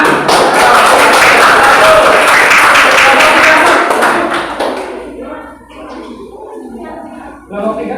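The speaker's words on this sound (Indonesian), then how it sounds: "Tepuk tangan" A room of participants claps at the close of a group presentation in an Indonesian teacher-training class, loud and dense for about four seconds before thinning out into scattered claps and quiet.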